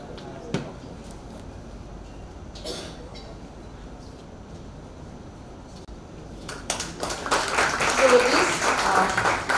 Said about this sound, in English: So all of you may kindly give a round of applause for all the winners that we have today for this program.